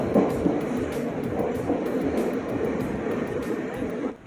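The Guruvayur–Thiruvananthapuram Intercity train runs through Kerala with a loud, continuous rolling rumble and a regular pattern of wheel clacks on the rails.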